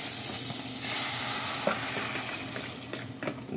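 Cheesy eggs sizzling as they go into a hot pan, a continuous frying hiss with a few soft clicks and stirring scrapes near the end.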